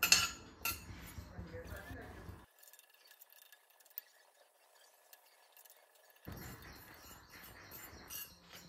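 Poppy seeds roast in a pan for Marathi ukdiche modak, with faint metallic clinks and scrapes of a utensil against cookware, then a quiet pause before the stirring resumes close by.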